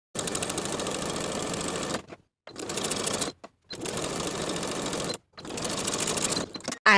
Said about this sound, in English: I'm going to edge stitch along the edges of my finishing stitches from one side to the other to form a casing